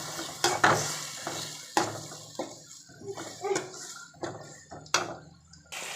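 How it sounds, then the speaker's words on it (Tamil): Tomatoes sautéing in a pan for chana masala, with a spoon repeatedly scraping and clattering against the pot over a soft sizzle, close and moderately loud with irregular sharp knocks. "தக்காளி போட்டு நல்லா வதக்கிக்கலாம்."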